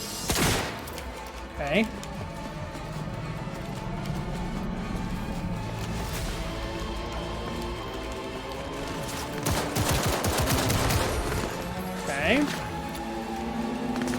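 Bursts of automatic gunfire from the shooter game Cyberpunk 2077, loud and sustained across the stretch with heavier volleys near the start and middle, while a player talks and exclaims over the shooting.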